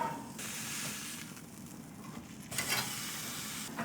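Ribeye steak searing on a Big Horn infrared grill at extreme heat, a steady loud sizzle and hiss with brief surges of spattering, no talk.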